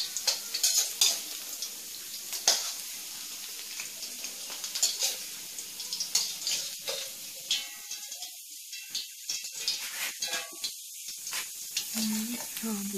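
Dried beef crackles and sizzles as it fries in a pan. Spitting pops and stirring clatter come through close under intermittent talk, with a brief burst of running water partway through.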